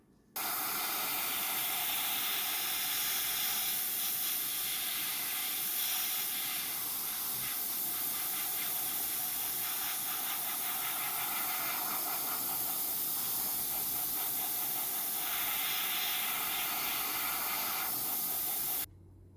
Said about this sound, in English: I'm going to coat the model in Tamiya TS13 clear.